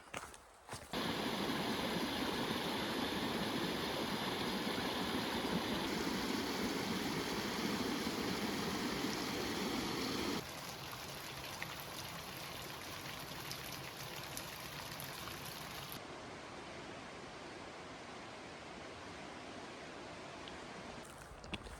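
The Little Missouri River flows in a steady broadband rush close by, with the sound of the water shifting and softening partway through.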